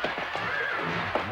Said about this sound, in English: Nice horsey.